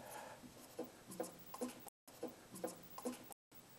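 A marker squeaks and rubs across a board in a few short strokes, faint and close, with brief pauses between bursts of writing.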